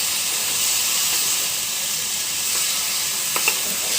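Taro stolons with potato frying in spices in a village kitchen pan, giving a steady loud sizzle and hiss with a few soft stirring scrapes near the end.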